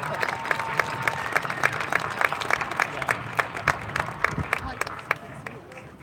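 A large audience at a high school graduation claps steadily, sharp individual claps standing out over a murmuring crowd, sustained and fairly close for several seconds.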